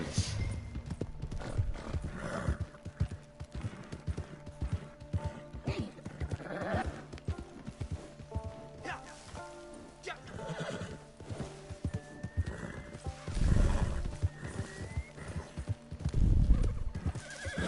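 Horse hooves clip-clop repeatedly while a horse neighs and whinnies several times in a PS4 video game, with game effects in the background.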